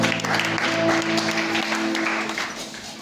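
A church congregation applauding and acclaiming, steady crowd clapping mixed with voices and a sustained tone, fading slightly toward the end.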